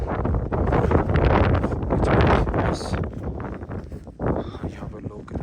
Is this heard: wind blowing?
yes